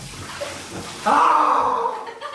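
Water pouring into a small home paddling pool, a short gushing splash that starts abruptly and continues steadily for over a second.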